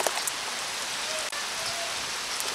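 Steady rain falls in Duarte near the mountains, a dense, close hiss of drops hitting surfaces that runs unbroken throughout, with no talking.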